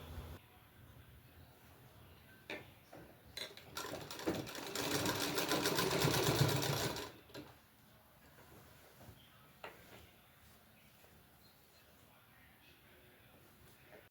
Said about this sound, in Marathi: मी आता त्या बाहीच्या जॉईंटला इथं शिलाई मारून घेत होते